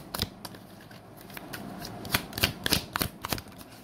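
Tarot cards riffle and slap in a run of crisp shuffles, quiet and close, with sharper flicks and taps near the end as cards are drawn from the deck.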